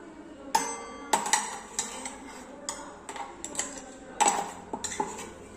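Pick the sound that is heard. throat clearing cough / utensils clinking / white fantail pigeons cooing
utensils clinking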